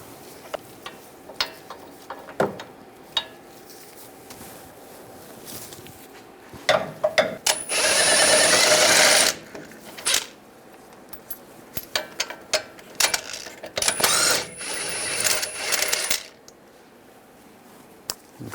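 Bolts being removed from a brake caliper bracket on a 2011-2018 Ram 1500 with a 21mm socket: metallic clicks and ratchet clatter, with longer whirring stretches, close and clear, no talk.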